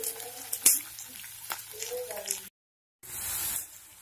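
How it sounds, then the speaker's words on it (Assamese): Onions frying in a pan for a fish-head curry, a soft steady sizzle with brief stirring scrapes, interrupted by a short silent gap before the sizzle resumes brighter. "পিঁয়াজখিনি ভাজি হৈ গ'ল"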